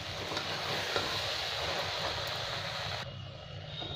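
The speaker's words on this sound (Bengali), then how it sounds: "এবার আমি মটর আর আলুটা দিয়ে দিলাম, এটা খুব ভালো করে কষে নেবো একটু" Soybean chunks with peas and potato fry in a pan, making a continuous low sizzle with soft stirring beneath it, fairly quiet throughout.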